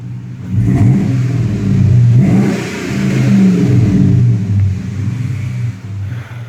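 Hemi engine in a Dodge Ram truck revving up and settling, a close, loud, deep rumble with rising and falling throttle swells and no talk over it.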